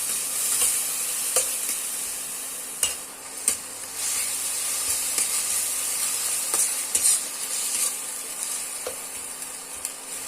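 Ginger, garlic and chilli paste sizzles steadily in a frying pan for a cauliflower and potato curry, with a spoon stirring and scraping at intervals through the continuous close hiss.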